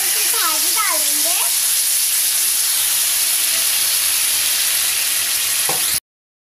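Butter sizzling and hissing steadily on a hot tava while pav is toasted with bhaji, a continuous bright frying hiss under faint chirping background sounds, ending abruptly.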